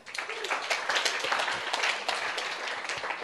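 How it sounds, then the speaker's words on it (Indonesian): Congregation clapping in a church service after a call to applaud God, a dense, steady patter of many hands at moderate distance, lasting a few seconds without clear voices. "Tepuk tangan untuk Tuhan kita."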